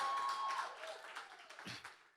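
Scattered audience applause at a live music night: a light patter of clapping hands that thins out over two seconds, with a brief low thump near the end.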